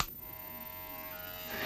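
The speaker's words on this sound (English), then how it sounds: "If you were to combine a really close shave with all the comfort and convenience of an electric shaver" A Remington M3 electric shaver buzzing with a steady, even motor hum for a brief moment, close and moderately quiet, with no voices.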